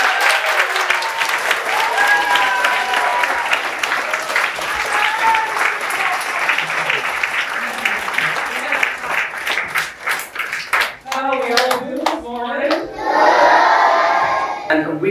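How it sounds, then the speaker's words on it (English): Sustained clapping and cheering from a school assembly crowd greeting arriving guests, loud and dense for most of the stretch, then thinning into scattered claps as voices and other sounds rise near the end. "Can everyone give Jay and Damien a big round of applause as they come in?"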